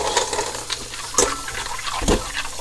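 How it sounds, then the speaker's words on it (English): Fresh clams being washed under running water from a kitchen tap, a steady wash of water with a few louder splashing bursts, close by, with no talking. "we have to wash the clams"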